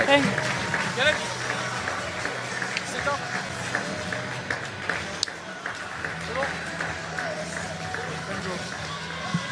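Clapping and crowd noise at a women's rugby match, England against Samoa, with players applauding travelling fans, scattered claps over an open stadium murmur while a voice speaks over it.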